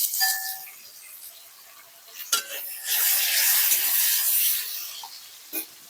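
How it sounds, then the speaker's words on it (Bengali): Chopped onion and tomato fry in a pan for a jackfruit-prawn curry, a soft hiss swelling into a bright sizzle midway, with a few sharp clinks of a utensil against the pan. "আর দিয়ে দেবো টুকরো করা পেঁয়াজ, দিয়ে ভালোভাবে ভেজে নেব।"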